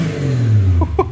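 Ford AU Falcon engine fitted with Pacemaker 4480 extractors revs up close, a smooth rising drone that swells and then drops off, with a brief voice at the end.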